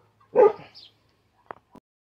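A single small dog yips once, then two short, faint woofs follow after a pause, in an otherwise quiet setting.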